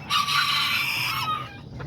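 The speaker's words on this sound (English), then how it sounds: "this is where I put my my azteca little roosters right here" Young Azteca roosters in a backyard pen give a loud, close crow and clucking that sustains for over a second, then tapers into softer farmyard noise.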